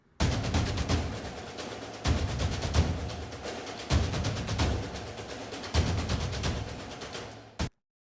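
Dense, bright layered orchestral drum hits with crisp high piccolo snare cracks and clattery plastic percussion, played in a steady busy pattern with a roomy tail, ending abruptly.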